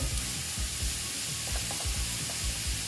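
Grated carrots frying slowly in a pan for carrot payesh, giving a steady low sizzle with soft scraping stirs repeating throughout.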